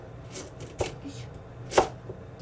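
A kitchen knife cuts through food on a board in a few soft, separate strokes, with two sharper chops standing out against a quiet indoor background.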